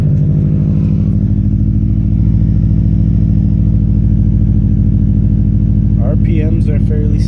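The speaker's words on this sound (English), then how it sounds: "RPMs are fairly steady even on warm-up, even with 1000cc injectors." A car engine fitted with 1000cc injectors idles steadily on warm-up, a loud, even low rumble running throughout, with a voice talking briefly near the end.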